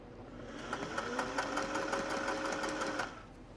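Singer 401A sewing machine running in a short steady burst, a fast even mechanical whir and ticking that starts and stops, close and fairly quiet, with no talking.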